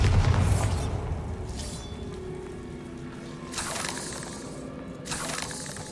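A Bombarda blasting spell in Hogwarts Legacy goes off with a loud booming burst at the start, then trails into crackling, spraying debris and a couple of later whooshing surges, fairly close.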